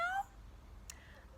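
Children at an early-years school singing assembly imitate a kitten with a single short, high sung meow, followed by near silence.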